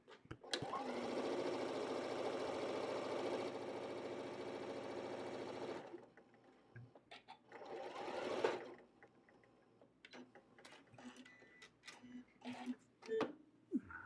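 A home sewing machine stitches fabric in a steady, rapid whirring run for several seconds, then stops, followed by another brief burst, with a person talking nearby afterward.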